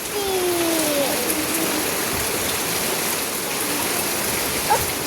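Constant downpour beyond a window, a thick unbroken wash of rain noise with a brief faint tone near the start.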